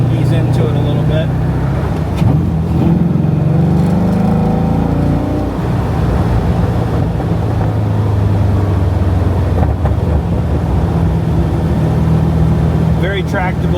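LS3-powered 1980 Chevrolet Corvette restomod rounds a corner and eases onto the throttle, its V8 a steady, loud low rumble heard from inside the cabin while someone talks over it.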